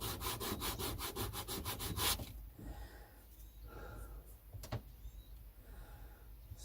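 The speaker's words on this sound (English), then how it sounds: "It will sand down quite easy." Wood being sanded flat by hand for a biscuit tin guitar, with about two seconds of rapid, even back-and-forth rasping strokes, close and loud, before it stops. Quieter handling noises follow, along with one sharp knock.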